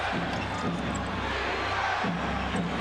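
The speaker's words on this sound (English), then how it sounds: "Chant of defense from the Garden crowd" A Madison Square Garden crowd chants for defense during a 1997 Knicks–Bulls basketball game, a steady rhythmic roar from the full arena with a commentator talking over it.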